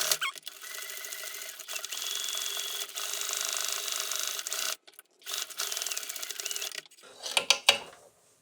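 A sewing machine stitches around the perimeter of a mitten lining seam, running in steady mechanical bursts with brief pauses and a short stop near the end, close and fairly loud with no talking.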